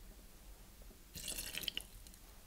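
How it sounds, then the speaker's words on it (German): Lime juice, a small 2 cl measure, being poured into a glass over muddled mango for a mango mojito, heard as a short, quiet trickle and splash in a hushed room. "Gießen wir jetzt als nächstes 2 cl an Limettensaft an"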